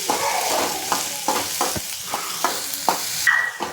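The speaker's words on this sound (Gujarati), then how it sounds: "પહેલાં આપણે બટેકું અને ડુંગળીને જ ફ્રાય કરવાનું છે." Potato and onion frying in hot oil in a pan, a loud continuous sizzle broken by repeated scraping stirs of a spatula, close up with no voices.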